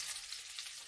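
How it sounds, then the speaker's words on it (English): Chicken fritter sizzling in oil in a frying pan, a steady crackling hiss close up with no voices. "I have one frying here"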